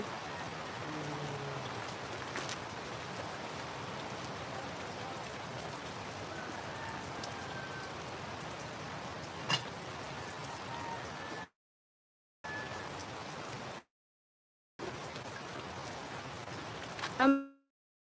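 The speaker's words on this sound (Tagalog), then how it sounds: "Kasi nga po malakas yung ulan." Heavy rain pours on a farm in a dense, constant hiss, broken by two brief gaps of silence, with a faint car horn in the distance.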